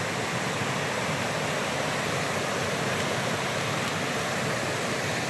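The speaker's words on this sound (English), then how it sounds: "oh, here's another little waterfall" A small waterfall at Wagner Falls State Park near Munising in the Upper Peninsula gives a steady, dense rush of falling water, close and continuous, with no voices.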